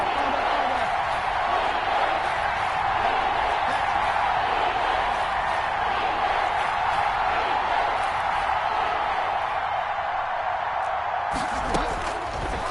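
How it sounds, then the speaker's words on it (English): Simulated stadium crowd in an American football video game, a steady loud roar of cheering that swells ahead of a big third-down play and holds throughout. "the crowd getting into it as we come up on a big 3rd down"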